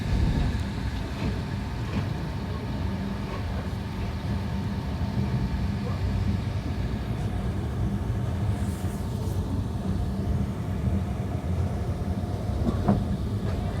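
A passenger train slows as it pulls into Kamalapur railway station in Dhaka, heard from on board as a continuous low rumble with wheel clatter and faint voices around it.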